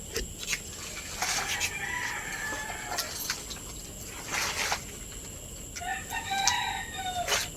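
A rooster crows repeatedly, loud and nearby, with hens clucking between calls over a steady outdoor hiss.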